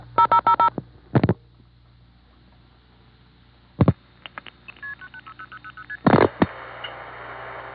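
Telephone DTMF dialing tones sound in several quick bursts of beeps, followed by a string of shorter signalling tones on an old N1 carrier line, with a faint steady hum between them.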